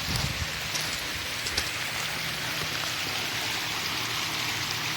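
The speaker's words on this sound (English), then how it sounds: "Here's the brook. It's kind of pretty in the morning." A brook flowing in the morning, a steady full broadband rush of running water that stays close and even throughout, with no voices.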